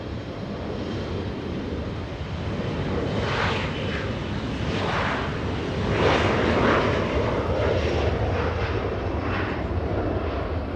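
Virgin Atlantic airliner at Los Angeles International Airport, its engines giving a steady, loud broadband roar that swells slightly midway through, with wind noise across the microphone and no voices.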